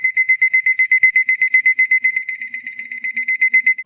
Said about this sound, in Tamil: அலாரம் கிளாக்ஸ் நம்மக்கிட்ட இருக்கு.